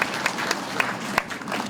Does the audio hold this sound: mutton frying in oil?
no